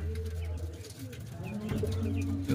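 Pigeons coo softly near a loft as a racing pigeon arrives, low throaty coos repeating over a busy background, with a louder burst at the end.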